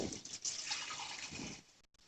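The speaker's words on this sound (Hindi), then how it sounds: "अब इसमें हम पानी डाल देंगे।" Water pours steadily into a pot of desi chicken for pulao, a brief splashing stream that stops abruptly near the end.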